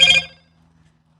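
A mobile phone ringtone sounds briefly and loudly, a short bright burst that cuts off abruptly into near silence, with no talk over it.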